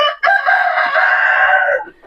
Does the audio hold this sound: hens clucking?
yes